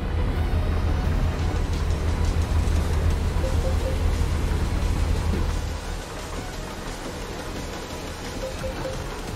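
Steady rain hiss from the American Truck Simulator driving game, loud and constant with a low rumble beneath, easing to a quieter level partway through.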